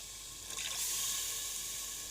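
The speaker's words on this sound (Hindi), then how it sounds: "हल्का पानी का छींटा दे के हम मसाला भूनेंगे" A splash of water hits spices frying in a pan for Lahori chickpea curry, a brief rising hiss and sizzle that holds steady, close and moderately loud.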